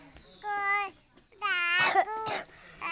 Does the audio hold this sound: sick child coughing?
yes